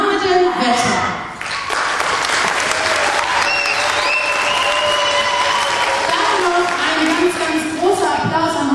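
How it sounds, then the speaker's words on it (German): Loud, sustained audience applause fills a children's university TV show, with dense clapping running unbroken for nearly nine seconds and a brief dip early on. "Auch für euch beide natürlich ein dicker Applaus."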